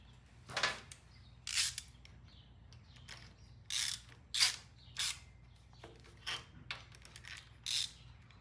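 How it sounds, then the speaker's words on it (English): A ratchet with a stud driver tightens studs on a Norton motorcycle timing cover, giving about ten short, sharp clicking bursts spaced by brief pauses, close and clear in a quiet workshop. "Stud drivers, they're really nice. Go on the stud, lock onto it, let you tighten it in, tighten it out."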